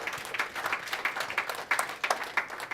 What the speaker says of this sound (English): Let's give Jacqui a big round of applause.